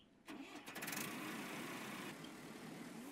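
A small tractor engine in Ranch Simulator starts up with a brief whir and settles into a steady, moderately loud idle, with no one talking.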